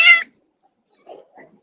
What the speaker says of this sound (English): I have to get the cat